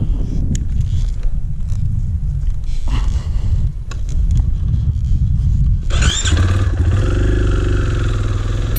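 A 2021 KTM 500 Enduro dirt bike engine runs steadily close by, a dense low rumble with brief revs early on and a sharper, rising rev near the end, with no talking.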